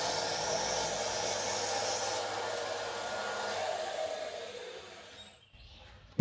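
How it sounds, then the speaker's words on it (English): A power sander works a solid wood toilet seat piece down to a traced line, a steady loud rushing whir that drops in pitch partway, fades and stops, ending with a brief knock. "Now I'm going to sand down to the line."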